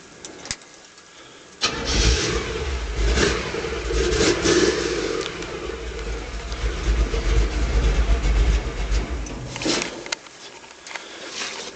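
An International L-110 pickup truck engine cranks and catches, then runs with a loud, rough rumble that fades out near the end.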